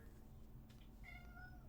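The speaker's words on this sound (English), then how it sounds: "Oh, that is a cat." A cat lets out one drawn-out meow in the background of a voice call, rising over a steady hiss.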